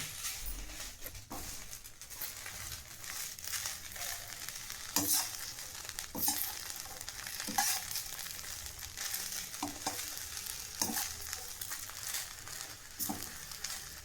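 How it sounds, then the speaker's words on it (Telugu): Curry leaves dry roasting in a pan crackle and rustle as they are stirred, a quiet continuous sizzle broken by scattered sharp clicks and scrapes of the spoon, close by with no talking. "అప్పుడు కరేపాకు మనకు బాగా పొడి పొడిగా పెడపెడ అంటూ ఉంటుంది. ఆ విధంగా వేయించుకుంటూ ఉండాలి."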